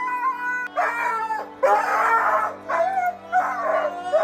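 A dog howls and whines in several long, wavering, close-up cries of rising and falling pitch, separated by short breaths, with no one talking.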